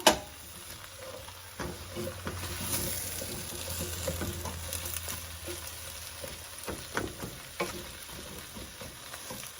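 Cubed potatoes fry in a pot of stew as a spoon stirs them, giving a continuous soft sizzle broken by scraping, clinking strokes from close by, with no talking.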